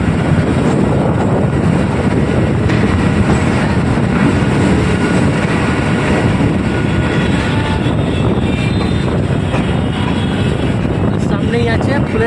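Kolkata Circular Railway train running from Dum Dum to Majerhat, a loud continuous rumble and rattle of the carriages with wind noise, steady throughout with faint clanks near the end.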